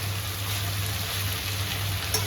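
Whole onions fry in a pan for palak paneer, giving a steady, even sizzle that stays moderately loud and unbroken for a couple of seconds, with no talk.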